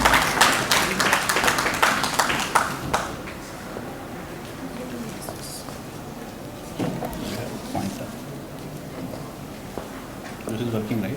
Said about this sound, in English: Please clap for him and wish him good luck.